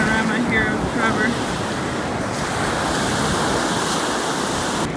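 Ocean waves break on a beach at sunset, a loud continuous roar of surf mixed with wind buffeting the microphone, with a faint voice briefly audible at the start.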